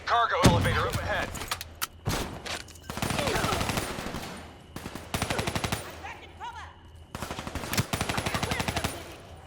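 Automatic gunfire in the video game Call of Duty Black Ops 3, repeated rapid bursts of shots with short pauses between, loud and close, mixed with other game sounds and brief voices.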